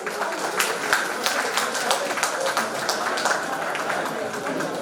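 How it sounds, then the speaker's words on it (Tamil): Clapping from an audience at a Tamil ceremony honouring a guru, a dense, even patter of many hands that holds steady throughout, fairly close and unbroken. "கைத்தட்டணும்"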